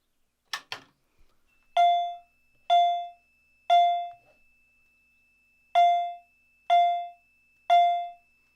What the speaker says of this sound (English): since it is a vibrating chime